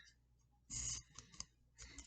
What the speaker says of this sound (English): cut off the tip of the balloon